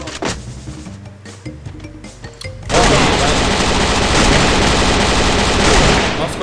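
Sustained automatic gunfire bursts in loud and dense after a quieter stretch of game sounds, a continuous rattling volley that keeps going to the end without a break.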